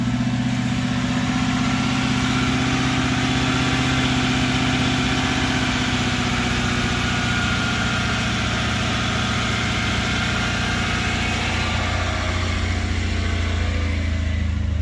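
A car engine idles steadily with a continuous low rumble, close and loud, with no talking.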